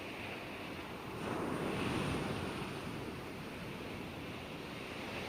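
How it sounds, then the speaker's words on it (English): Waves lapping on a sandy beach under a clear sky, a soft steady wash of surf that swells briefly and then settles into a constant murmur, with no voices. "you can hear the waves lapping"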